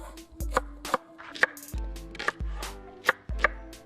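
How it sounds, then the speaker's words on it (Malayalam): Onions are chopped with a knife on a board, about a dozen sharp, close knocks in an uneven quick rhythm, with no talk. "നല്ല സവോള ഒരു 6-7 എണ്ണം ഭംഗിയാക്കി എടുത്ത് ഇതുപോലെ കട്ട് ചെയ്തെടുക്കാം."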